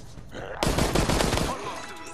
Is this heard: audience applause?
no